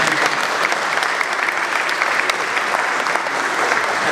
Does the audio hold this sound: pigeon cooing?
no